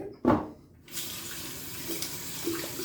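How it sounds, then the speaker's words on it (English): Tap water briefly splashing into a sink while wetting a shaving brush for soap lathering, a short gush followed by a softer steady trickle, close and alone with no talk. "A little more water on this guy."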